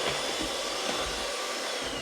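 An electric whisk mixes cake batter for soft apple tarts after milk is added. Its steady, close whirring hum holds level and unbroken with no talk.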